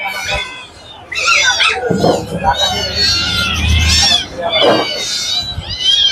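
A Persian cat meows several times, drawn-out and whiny, mixed in with people talking nearby.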